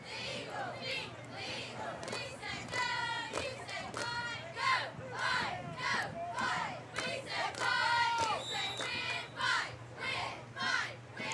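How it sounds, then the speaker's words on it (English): Cheerleaders chanting and yelling in bursts to spur on a high-school football team's defense at the EA Cougars vs Trinity Eagles homecoming game, shrill rhythmic shouts rising over crowd noise and chatter. "we've got the cheerleaders cheering on the team, going for the defense here"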